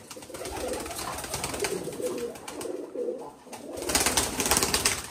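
A pigeon on a rooftop coos close by, a series of soft, rolling coos that rise and fall in short phrases and grow louder toward the end.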